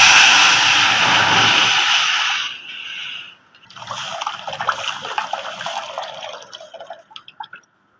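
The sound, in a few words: tamarind water poured into cooking pan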